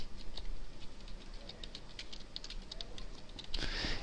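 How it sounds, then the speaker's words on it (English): Rapid clicking keystrokes on a computer keyboard as a caption is typed on screen, steady and close with uneven rhythm throughout, no talking. "And I'm going to just type in"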